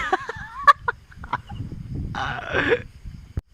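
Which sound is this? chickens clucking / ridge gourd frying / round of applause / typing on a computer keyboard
chickens clucking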